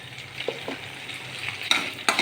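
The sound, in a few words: mustard seeds and cumin frying in oil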